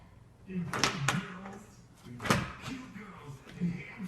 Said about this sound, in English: Oh, he's fighting the screen door.